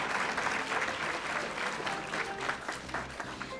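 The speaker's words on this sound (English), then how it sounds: "let's give another round of applause for everything they do" An audience at a school district's Hispanic and Latin American heritage celebration claps in a dense, sustained round of applause that stays loud and even throughout.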